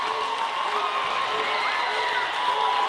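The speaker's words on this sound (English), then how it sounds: "The Risco crowd's happy." Crowd at a high school basketball tournament final, Risco versus Holcomb, cheering and shouting steadily at a distance throughout.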